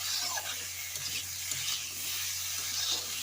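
Raw potatoes with turmeric powder fry in a pan, giving a steady close sizzle with soft scraping as they are stirred.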